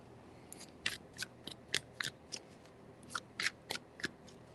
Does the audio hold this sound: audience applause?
no